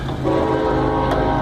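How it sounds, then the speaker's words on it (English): A train passes on tracks right beside a home, its loud, steady rumble and sustained horn tones filling the moment, close and prominent with no talking. "sorry for the train. I live right next to the train tracks."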